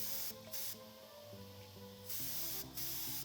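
A spray gun at 20 psi sprays Cerakote coating onto cardboard in short, loud hissing bursts separated by brief pauses, with a steady compressor-like hum underneath.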